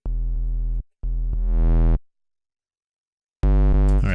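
A buzzy, harmonically rich synth tone plays in three bursts, the middle one growing grittier and brighter as distortion builds, with a pause before the last.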